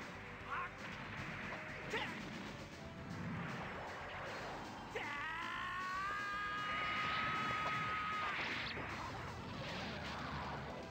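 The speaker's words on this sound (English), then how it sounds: "That's a cool head explosion" A head explodes in a 3DO video game with a crunchy burst amid steady game sound effects and a droning engine-like tone, moderately loud and continuous.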